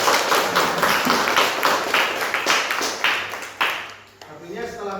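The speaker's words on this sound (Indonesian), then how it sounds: "Oke, aplaus untuk Hasan." Applause for Hasan in a classroom after a talk on Pancasila: several seconds of steady clapping from a group, then fading out.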